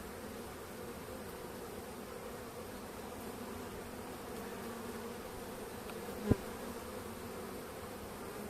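Anatolian honeybees hum in a steady, low swarm from an opened hive at the end of winter, a continuous close buzz with one brief knock partway through and no talk.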